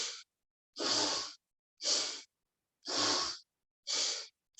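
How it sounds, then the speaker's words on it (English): Forceful bellows breathing (Bhastrika) in a yoga session: five loud, rhythmic breaths of about half a second each, evenly spaced with silent gaps, close and alone. "with the bellows breath, like we mentioned, Bhastrika. So we may forcefully inhale one way, exhale the other way"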